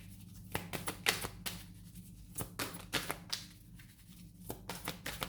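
Oracle cards slide and tap on a table as three are drawn and laid out. The close, crisp flicks and soft slaps come in irregular clusters with no talk.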